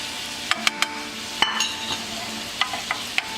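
Butter sizzles in a hot frying pan for steak, a soft hiss beneath a series of sharp utensil clinks and scrapes against the pan, several close, irregular taps spread across the moment.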